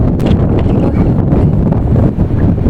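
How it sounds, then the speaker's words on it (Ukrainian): Strong wind buffeting the microphone outdoors on a horse farm, a loud continuous rumbling roar with no pauses. "дуже вітер. Важко втримати, ну реально сильно. Прям дме."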